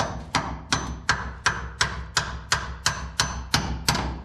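Twelve sharp metallic taps fall at an even, steady rhythm as a hammer drives a part out of its hole, each strike ringing briefly and close by, with no talking.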